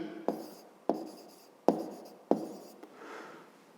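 Hand writing during a fifth-grade maths lesson: four sharp, separate strokes or taps with short scratchy tails, spaced about a second apart, close and fairly quiet, with no talking.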